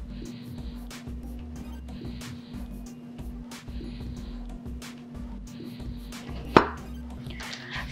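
A knife chopping zucchini into sticks on a board, with a run of regular cutting taps over a steady low hum and one sharp louder knock near the end.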